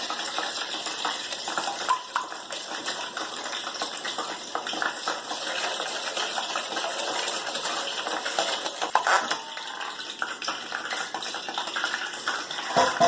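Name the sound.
whisking ingredients together in a bowl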